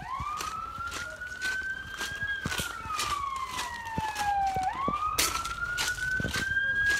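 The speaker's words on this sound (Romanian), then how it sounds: "mai vine o mașină de pompieri tot aici" A fire engine siren wails and sweeps up and down in pitch, fairly loud and steady, arriving at a vegetation fire near houses and forest, with faint background noise and no talking.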